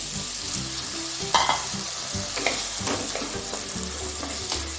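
Chickpeas cooking with turmeric in a pan, water poured in and setting off a steady, close sizzle and bubbling with a few stirring knocks, no one speaking.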